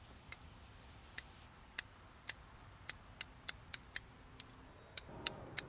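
Pruning shears snip through barberry bonsai branches in about a dozen sharp, crisp clicks spaced irregularly over a quiet background, with a rustle of handled foliage near the end.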